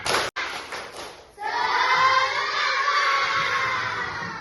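A group of schoolchildren in a classroom bursts into a loud, lively 'tepuk semangat' chant. Their voices shout together and stay sustained after a brief quieter lead-in.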